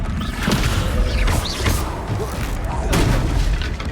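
Descendo spell cast in Hogwarts Legacy, with booming impacts and crashes amid busy combat sound, along with voices speaking.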